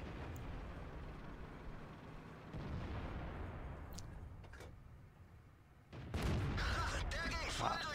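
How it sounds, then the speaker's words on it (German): A tank cannon firing a high-explosive shell in World of Tanks, in a match featuring a Centurion Mk. I: a sharp, heavy blast near the end that cuts through a quieter stretch, following distant rumbling booms and a voice talking over it. "Au, jetzt schießt er mit HE."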